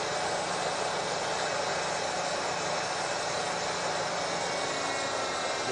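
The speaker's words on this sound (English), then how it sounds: "You can hear the idle changing as it's going through the different circuits and checking things out." Ford car with OBD-1 engine controls idling during a self-test run, a steady broadband engine drone with faint hiss, continuous and fairly loud throughout with no talk.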